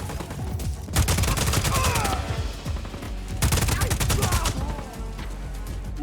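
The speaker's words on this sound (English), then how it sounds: "Stand still so I can shoot you." Rapid bursts of video game gunfire from Just Cause 4, two long rattling volleys of close shots separated by a brief lull, loud against a busy backdrop.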